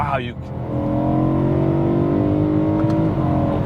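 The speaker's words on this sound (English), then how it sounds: "I love to just downshift." BMW E92 M3 Lime Rock Park Edition at a cars and coffee meet, blipping through a downshift and then holding a strong, steady engine drone that rises slightly before easing off, close and loud.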